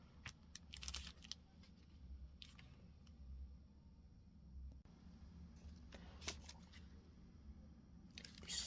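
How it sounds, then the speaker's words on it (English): Scraps of dictionary paper are roughly torn by hand in several short, crisp rips and rustles, with quiet pauses between them, close up. "I'm going to rough tear that so that it fits here"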